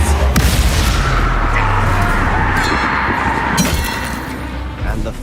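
A Confringo blasting spell goes off in the Hogwarts Legacy video game with a loud booming explosion and shattering debris, followed by further crashes and rumbling blasts in a dense, noisy fight.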